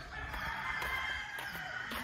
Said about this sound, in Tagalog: Puro manok.